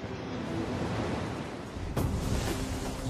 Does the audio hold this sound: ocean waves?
yes